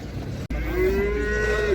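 A bull at an outdoor livestock market in Uzynagash near Almaty gives a long, loud, close moo over the steady background noise of the crowded market.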